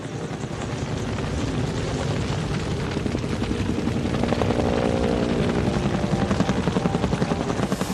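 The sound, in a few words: firefighting helicopters flying over a wildfire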